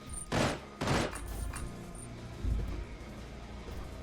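Gunfire from a weapon in the first-person game Altered Blood: two loud, sharp shots fire about half a second apart, then a quieter stretch with a few softer thumps and mechanical clicks.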